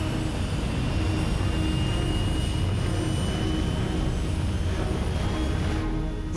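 A patrol craft in an animated sci-fi series roars past with a steady, loud jet-like engine rush that holds evenly for several seconds before easing slightly at the end.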